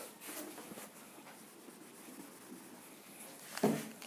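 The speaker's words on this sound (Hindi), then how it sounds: "इसको मैं नीचे लिखता हूँ" A pen scratches across paper while math is worked out by hand, soft continuous scribbling strokes with a louder tap or scrape near the end, quiet and close.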